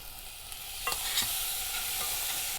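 Tomatoes go into spices frying in oil and are stirred in, producing a low, even sizzle with a few brief scraping strokes of a spoon, fairly quiet and close.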